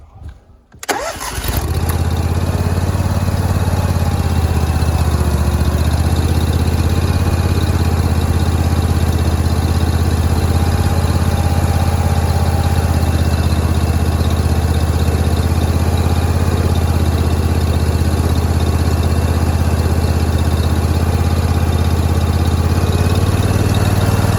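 A Dyna SC12 firewood processor engine starts up and then idles with a loud, steady, unbroken drone for over twenty seconds, heard up close with no talk.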